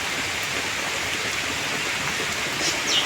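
Heavy rain pouring down in a constant close hiss of drops, loud and unbroken, with a faint extra swell near the end and no talk.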